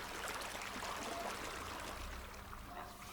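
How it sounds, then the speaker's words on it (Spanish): A river murmurs and trickles over stones in a soft, constant wash of flowing water, faint and unbroken throughout with no voices. "El murmullo del río y las piedras."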